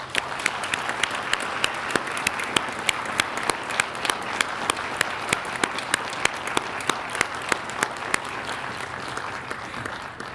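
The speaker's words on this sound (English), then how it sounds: "One more time, let's give them a round of applause." Steady audience applause at a city council meeting honoring parade grand marshals, dense clapping sustained and fairly loud throughout with crisp individual claps standing out.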